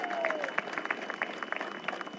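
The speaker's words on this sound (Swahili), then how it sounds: "Pigeni makofi jameni." Applause from a large summit audience at the Africa Climate Summit in Nairobi, dense and steady clapping throughout with a voice talking over it.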